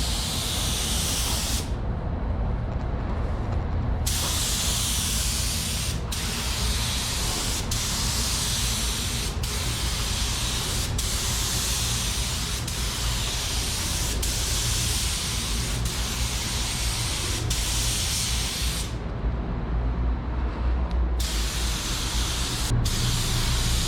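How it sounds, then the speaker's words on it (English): A paint spray gun sprays a Mitsubishi Eclipse GSX in a loud continuous hiss, cut by short pauses where the trigger is released, alone without talk. "Sprayed out so much better this time."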